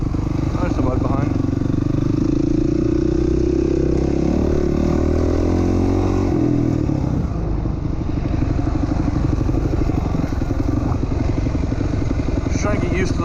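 A motocross bike rides through wooded trails at the Doug Dunaway Memorial Motocross Park in Ohio, its engine droning loud and steady close by with a rising rev early on, then a rougher, choppier note with clattering.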